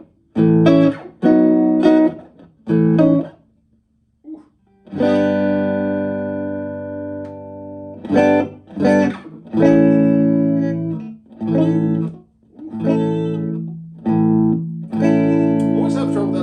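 Guitar power chords strummed in short bursts, some held and ringing, with gaps between them and audible string buzz, played dry with no reverb, close and loud.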